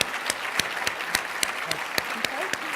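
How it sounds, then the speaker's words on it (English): Steady applause from a crowd at a Canadian Club and Empire Club luncheon for the finance minister, with sharp individual claps standing out above a dense, continuous patter throughout. "A round of applause for our finance minister, please."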